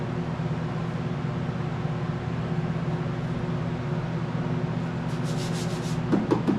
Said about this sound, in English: I got some serious sanding to do.